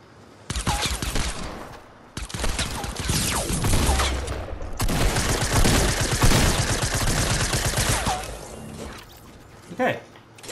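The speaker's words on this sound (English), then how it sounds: "I was missing my shots on my deagle" Desert Eagle pistol fire in a Fortnite match, loud repeated shots and bursts of gunfire with clattering game effects, running across most of the stretch with a short gap before a final shot.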